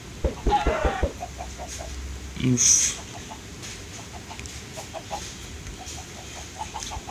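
Baby chicken in Minecraft, a soft repeated peeping chirp ticking at a steady rhythm throughout, with a louder cluck and faint game sounds early on.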